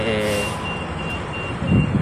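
A bus at Serramonte Mall in Daly City idles and pulls in with a steady low engine rumble, a reversing beep chiming repeatedly, and a louder engine surge near the end.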